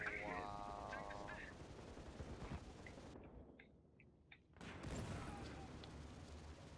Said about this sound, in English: you would think that the 50 cal, being what it is, even in Noob Core, would take somebody out in 2 hits